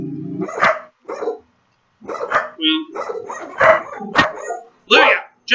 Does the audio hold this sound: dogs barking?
yes